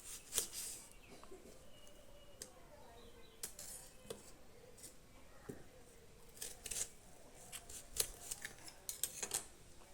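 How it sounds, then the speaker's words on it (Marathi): A knife chops onion on a board in a home kitchen for a quick Konkan-style meal, making a loose series of sharp close taps and slices with quiet gaps between them, and no one speaks. "तर कांदो आता पटकन कापून घेऊया."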